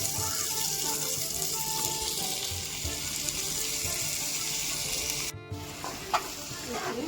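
Banana pieces sizzle steadily in hot oil in a pan, a dense continuous frying hiss with a few soft stirring clinks near the end.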